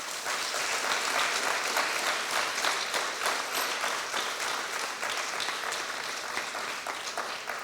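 Steady applause from an audience at a student's classical Indian dance recital, a full wash of many hands clapping continuously at an even level throughout.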